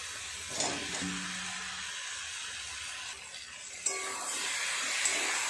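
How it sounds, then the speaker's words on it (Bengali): Spice paste frying with fried fish heads and vegetables in a Bengali curry, a soft steady sizzle with occasional stirring clinks and scrapes, fairly quiet and close, no talking. "সমস্ত কিছুর সাথে মশলাটা আরও একটু পাঁচ সাত মিনিট সময় নিয়ে এইভাবে কষাতে হবে"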